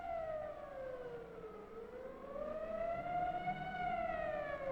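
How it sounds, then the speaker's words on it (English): A 1957 civil defense air-raid siren sounds in a city, its tone sliding down and then rising again in a long wail, heard from a distance with no voices. "as directed by the mayor, the siren sounds once more."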